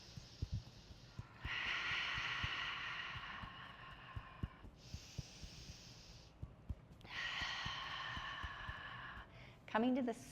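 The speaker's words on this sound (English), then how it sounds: "Inhale, nose. Exhale, mouth." Yoga breathing during an energy medicine class, with three long, audible breaths near the microphone, each a steady rush of air lasting one to two seconds, among faint small knocks, and a brief sound right at the end.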